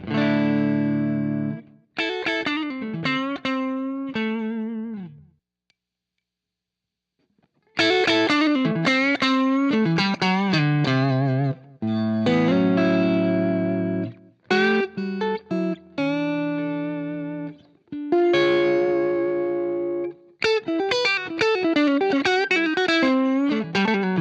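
Electric guitar played through a Pettyjohn Chime MKII pedal into a Blues Machine amp, giving a full, slightly overdriven tone; close, loud phrases of strummed chords and picked notes, with one short pause and no talking.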